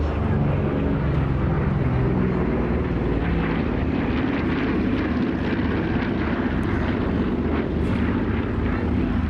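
A 1944 Douglas A-26 Invader propeller aircraft displays at an airshow, its loud, continuous piston-engine drone filling the air steadily and close by, with no voices heard.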